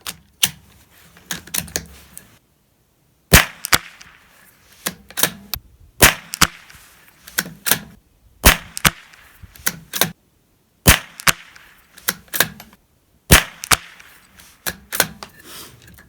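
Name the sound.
Ruger Precision Rimfire .22LR rifle firing five shots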